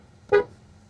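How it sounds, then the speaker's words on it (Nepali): A single short, crisp car horn toot, close and clear against a quiet interior background. "आहा, हर्न पनि क्या क्रिस्प छ क्या।"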